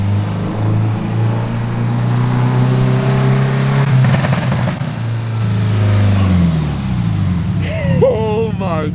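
A tuned Subaru WRX STI with a deep-rumbling exhaust pulls up close, its engine note rising and falling through revs before settling, with a voice talking over the end.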